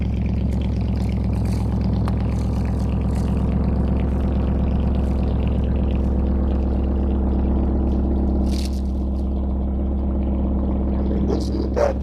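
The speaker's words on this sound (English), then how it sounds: "I just wanted you guys to hear how loud the cold start is on a V8 BMW" A straight-piped BMW V8 engine rumbles loudly on a cold start, holding a steady, deep, uneven idle throughout with no talk over it.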